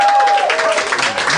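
A live comedy podcast audience claps in a dense, loud burst of applause that carries evenly through the short moment, with a thin steady tone briefly audible at the start.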